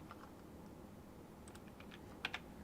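Quiet, steady typing of code on a computer keyboard, soft rapid keystrokes under a hiss of background noise, with a couple of sharper key clicks near the end.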